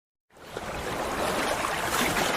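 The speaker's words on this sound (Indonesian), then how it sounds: "suara gemuruh aliran sungai terdengar" A rushing river flowing through a forest, a dense hissing roar that starts abruptly after a brief silence and stays steady and fairly loud.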